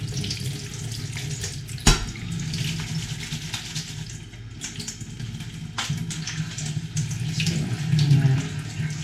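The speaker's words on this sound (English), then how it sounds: "And rinse with a bit of cold water so it's not quite so hot for you." A kitchen tap runs a steady stream of cold water over drained cooked spinach in a sink, continuous and close, with a sharp knock near the start.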